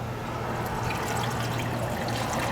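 Water pours steadily into the engine cooling system of a 2007 Dodge Ram 5.7 HEMI in a continuous splashing trickle, close and fairly loud, with no voices.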